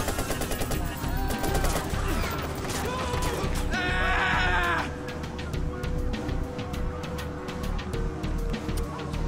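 Rapid automatic gunfire in the video game Watch Dogs rattles out in dense bursts against busy background noise, with a brief harsh crackle midway, continuous and fairly loud throughout.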